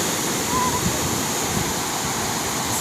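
Sea waves washing onto a beach at low tide, a steady, close hiss of surf with no distinct breaks, alone without voices.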